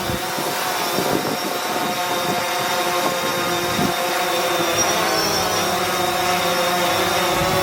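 Whining drone rotors of a DJI Mavic 2 flying outdoors in wind, a steady high buzz running throughout with gusty low rumble beneath, continuous and fairly loud with no talk.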